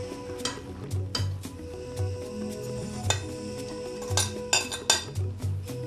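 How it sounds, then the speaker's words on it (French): Onions fry in a pan for Cameroonian mushroom egusi soup: a soft sizzle under intermittent stirring, with sharp clinks and scrapes of a utensil against the pan at irregular moments. "il faut laisser griller les oignons"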